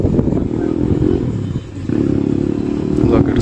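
A Kayo T2 motorcycle engine revs with a harsh, steady buzz that dips briefly and climbs back, close to the microphone, while a voice talks over it.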